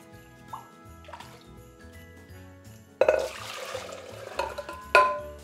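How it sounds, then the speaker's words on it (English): Water is poured and scooped out of glass jars filled too full for Sicilian Christmas caponata preserving, with splashing, trickling and clinking of glass close by, quiet drips early and louder pouring bursts later. "Next job is to remove some of the water because it's too much now."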